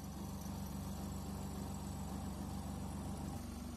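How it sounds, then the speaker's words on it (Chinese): A semi-automatic washing machine's spin-drying motor, on a machine with a faulty capacitor, runs as a steady low hum close to the microphone, with its pitch shifting slightly near the end. "这个马达负责脱水的，它可以启动，可以转动"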